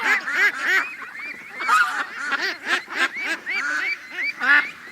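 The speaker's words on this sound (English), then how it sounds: "Hello, ducks!" A noisy flock of geese and ducks honks and quacks over one another in rapid, overlapping bursts, close by and loud, with no talking.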